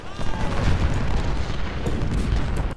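Artillery in the Civil War strategy game Ultimate General: Civil War at Gettysburg, a dense rumble of overlapping booms and distant cannon fire rolling on without pause.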